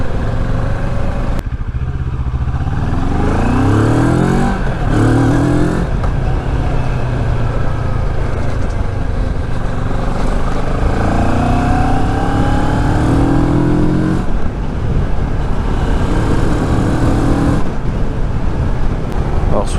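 A Moto Morini Seiemmezzo SCR motorcycle accelerates through its gears, the engine note rising in repeated sweeps with brief drops at each shift, loud and close against steady wind and road noise.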